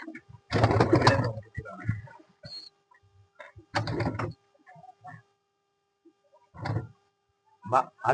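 Pigeons in a village pigeon loft coo in several separate bursts, close and fairly loud, with quiet gaps and small rustles between calls.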